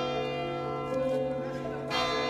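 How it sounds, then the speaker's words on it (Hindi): The clock tower bell at Hooghly Imambara in West Bengal, a Black and Hurry clock, strikes at twelve, sending out a sustained ringing tone with long humming overtones and a fresh strike near the end over faint outdoor ambience. "आपको सुनाई दे रहा है ये घंटा, ये घड़ी घर का है, 12 बजे ये बज रहा है,"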